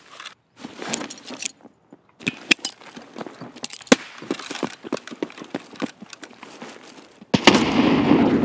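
Rapid sharp gunshots crack in Escape From Tarkov, many irregular close reports in quick succession over several seconds, followed by a sudden steady noisy rush at the end.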